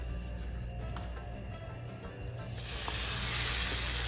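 Steady sizzling of naan flatbread frying in a hot pan, quieter at first, then swelling into a louder, brighter hiss for the last second or so.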